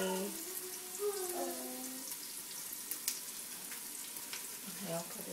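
Onion fries in a pan with a steady, soft sizzle close by, while someone speaks briefly over it at the start and again near the end.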